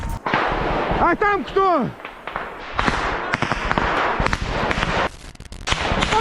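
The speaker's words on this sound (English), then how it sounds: "Ukrainian soldiers engage in fire contact with Russian infantry" Gunfire rattles through close combat between Ukrainian soldiers and Russian infantry, with dense bursts and sharp cracks over a noisy battlefield and a brief spoken question from a nearby soldier.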